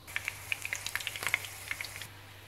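Onions, ghee, whole garam masala and ginger garlic paste spit in hot oil with a quiet sizzle, studded by a quick run of sharp pops and crackles that fade off after about two seconds.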